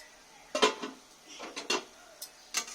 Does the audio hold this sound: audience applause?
no